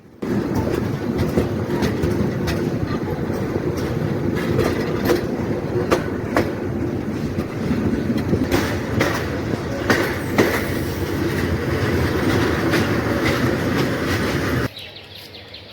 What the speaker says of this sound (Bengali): আমাদের ট্রেন এই মুহূর্তে পৌঁছে গেছে তার চতুর্থ স্টপেজ ভৈরব বাজার জংশন